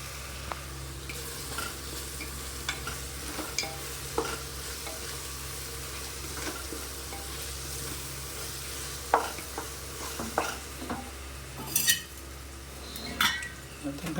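Cashew nuts frying in oil in a pan for vegetable biryani, a low steady sizzle under occasional scrapes and clinks of a spoon stirring against the metal, close and moderate in level.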